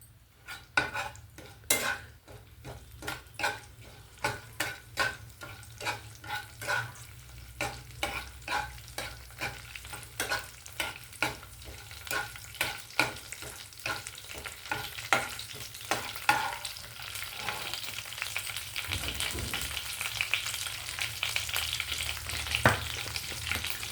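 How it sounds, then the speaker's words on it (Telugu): Whole round red chillies, stems left on, sizzle in hot tempering oil for a tamarind-leaf chutney while a spoon stirs them, producing a steady fry hiss broken by rhythmic close metallic scrapes and taps against the pan. "2 గుండు మిరపకాయలు కాడలతో సహా వేసేసానండి."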